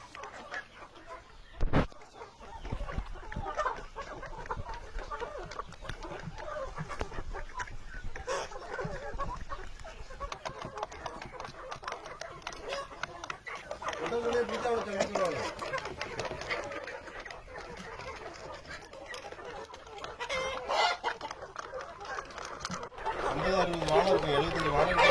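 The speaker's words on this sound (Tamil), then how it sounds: "நாட்டுக்கோழிகள்ல 2 வகை இருக்கு. ஒன்னு பெருவிடை, ஒன்னு சிறுவிடை. இது நம்ம பெருவிடை." Native Peruvidai country chickens cluck and call on a self-reliant farm in Nazareth, a steady flock murmur with outdoor ambience throughout, growing busier and louder toward the end.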